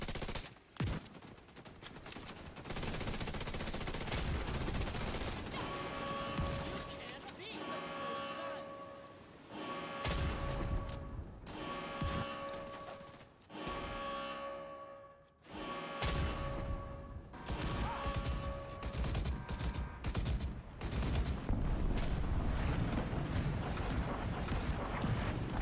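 Rocket fire during the Iron Horse raid boss fight in a video game, with rapid bursts of repeated blasts and gunfire-like volleys pulsing over a dense, noisy battle backdrop.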